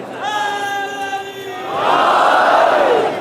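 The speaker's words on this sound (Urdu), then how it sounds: "معذرت کے ساتھ جتنے نعرے لگ رہے ہیں سن لیجیے گا" At a majlis, a single voice leads a long sustained call and a large crowd answers with a loud massed roar of religious slogans that swells and holds.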